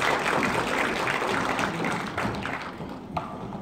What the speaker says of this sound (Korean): 여러분 큰 박수로 좀 맞이해 주시고요